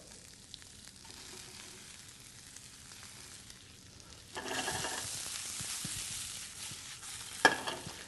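Kale and chard hit a hot pan of potatoes for a frittata, setting off a soft, fairly faint sizzle that swells suddenly midway, with a brief clatter near the end.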